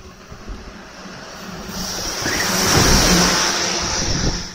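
A garbage truck passes on a freezing street, a broad rumbling roar that builds gradually, peaks near the middle and stays heavy, with wind buffeting the microphone and no talk.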